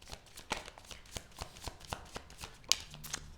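Guardian Angel oracle cards being shuffled by hand, a quiet, close series of regular riffling slaps about every quarter second, with no talk.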